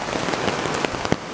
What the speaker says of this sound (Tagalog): Malakas na naman ang ulan dito sa Sampaloc.